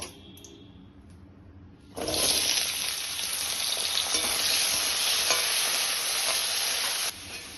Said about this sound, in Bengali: এবার একটা কড়াইতে তেল গরম করে আমি কিছুটা আলু এইভাবে ডুমো করে কেটে নিয়েছি, সেই আলুগুলো ভেজে নেব